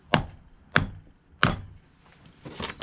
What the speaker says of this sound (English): put a piece of wood on top, and then hammer it down